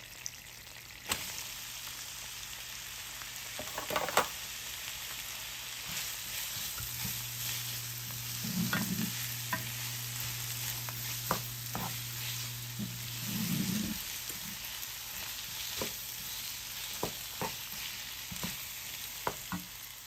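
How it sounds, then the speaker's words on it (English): Vegetables sizzling as they cook in a pan, a steady, moderately quiet frying hiss with scattered clicks and utensil knocks, plus a low hum in the background. "I'm going to add my vegetables in there."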